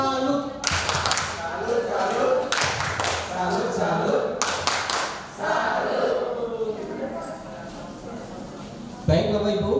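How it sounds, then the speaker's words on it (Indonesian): Applause for group 2 at a women's empowerment training session: several bursts of rhythmic group clapping, close and fairly loud, separated by brief pauses, with a voice speaking between bursts. "Kita berikan tepuk salut"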